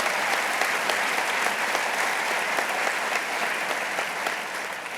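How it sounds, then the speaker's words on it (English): A large crowd gives sustained applause for Lieutenant Governor Kathy Hochul at an economic development event, a dense, steady wash of clapping that fades slightly toward the end. "Let's give a huge, big round of applause to Lieutenant Governor Kathy Hochul."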